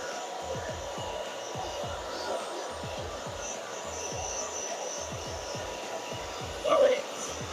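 Steady close-up whoosh of a handheld hair dryer blowing over short hair, continuous and even throughout with a faint tonal hum, no talking and a small bump near the end.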